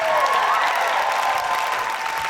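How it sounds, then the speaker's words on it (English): Sustained applause from a poetry slam audience at the Roundhouse, a thick, even roar of many hands clapping, loud and continuous with faint cheering mixed in. "Keep that applause going."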